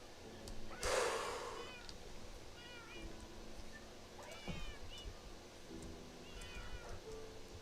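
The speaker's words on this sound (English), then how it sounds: "Shout out to the two cats and the dog that could not be made to go in the cat room" Cats in the video game Minecraft, several short, fairly faint meows spread across the span, with a louder burst of noise near the start.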